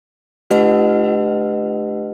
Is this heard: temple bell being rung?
yes